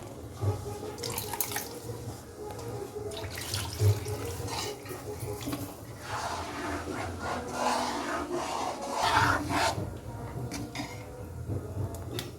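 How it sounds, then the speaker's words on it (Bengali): Water is poured into thick mango paste while making mango kasundi, giving a soft continuous splashing and trickling with some clatter in a home kitchen. "এবার আরও এর মধ্যে জল লাগবে তো মা এই জন্য জল দিচ্ছে"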